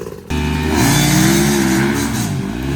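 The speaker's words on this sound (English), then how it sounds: "very powerful YZ250 Yamaha engine" A very powerful Yamaha YZ250 dirt bike engine revs hard and loud, close up, its pitch climbing and holding at high revs for a few seconds.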